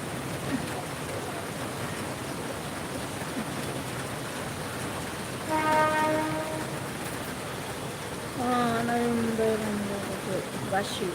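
Heavy rain pours steadily around a Mumbai local train, a broad continuous hiss with two brief tonal horn-like blasts partway through, and no clear voices.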